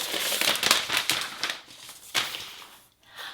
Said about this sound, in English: let's take this plastic off